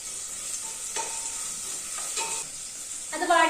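Half an onion sautéing in a pan for mutton biryani gives a steady, close hiss of sizzling oil, with light stirring scrapes and a brief flare of crackle near the end and no talking.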